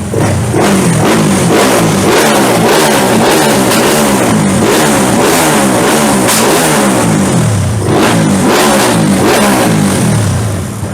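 A Honda Wave motorcycle engine runs loud and close, revving repeatedly in rising and falling surges for about eleven seconds without any speech.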